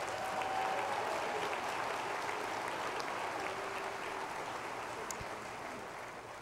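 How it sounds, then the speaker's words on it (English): A large crowd applauds at a university commencement ceremony, continuous broad clapping heard from a distance that slowly fades toward the end, with no speech over it. "Join me now in a round of applause."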